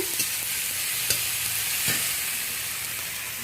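Garlic paste is stirred into softened tomato and onion in a frying pan, giving a steady, close sizzle with light scraping stir strokes every second or so.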